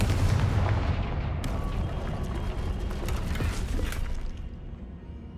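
A Confringo fire spell blasts in Hogwarts Legacy, a loud booming burst with a sizzling, crackling tail and mechanical clatter that fades over about five seconds.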